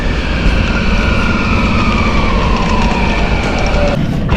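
A loud, close train of about five carriages rumbles continuously, with high whining tones slowly sliding downward as it moves, on a Zagreb to Budapest route.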